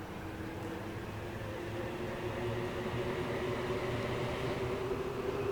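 Train in Transport Fever rolling past with a steady droning hum and broad rushing noise, holding constant and growing slightly louder, with no talk.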